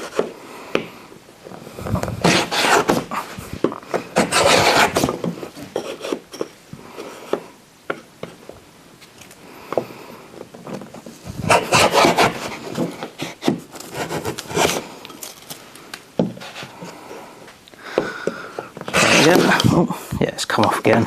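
A mini block plane takes a few shavings off a piece of wood, with repeated scraping swipes in short bursts, close and fairly loud, with someone talking between strokes.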